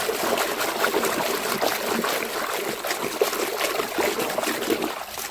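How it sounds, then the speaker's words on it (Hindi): Water trickling and splashing as a red toy tractor is washed, a continuous soft dribbling with small irregular splashes, fairly close and fairly quiet. "चलो इसको पानी में धोते हैं।"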